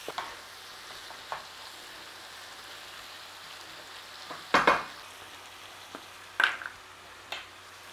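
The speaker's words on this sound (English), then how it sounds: "Just a little bit of a stir fry." Leek and mushrooms stir-fry in a pan with a soft, steady sizzle, punctuated by a few sharp utensil clatters and scrapes against the pan.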